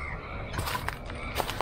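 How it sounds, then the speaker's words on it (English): Crows caw in an abandoned amusement park, several short harsh calls scattered across a faint, airy background, fairly distant and unhurried. "You've got the crows going mad"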